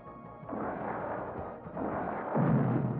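Explosions from The Transformers: The Movie (1986) come in a series of deep rumbling booms that swell in three waves. The last and loudest rolls out heavily at the end.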